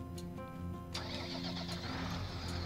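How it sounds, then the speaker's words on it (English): A farm vehicle engine in Farming Simulator cranks over and catches about a second in, then settles into a steady, loud mid-pitched running rumble with a slight rev near the end, no talking over it. "Nice engine sounds."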